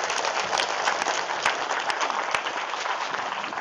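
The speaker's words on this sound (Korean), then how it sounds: "하나님 앞에 감사의 박수 한번 크게" A congregation claps together at a church prayer-retreat service in Korea, a steady dense patter of many hands filling the space for several seconds with no one speaking.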